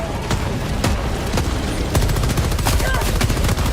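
Mortar shells and gunfire exploding in a multiplayer shooter game, a dense run of sharp blasts and rattling shots that keeps going loudly without a break.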